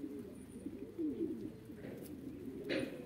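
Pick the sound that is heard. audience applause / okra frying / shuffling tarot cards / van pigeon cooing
van pigeon cooing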